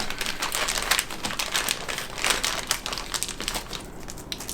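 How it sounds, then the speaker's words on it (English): Plastic bags of small parts and screws for a Back to the Future DeLorean build kit crinkle and crumple continuously as they are handled up close, a busy rustling texture with no talking. "And now let's go ahead and start with the unbagging"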